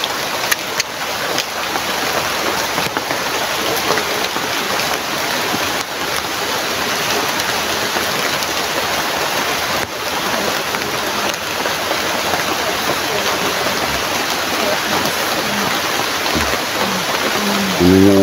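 Steady, dense rain falling outdoors near a house, a constant close hiss of drops hitting surfaces with no break throughout.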